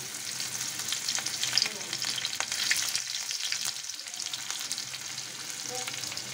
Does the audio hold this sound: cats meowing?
no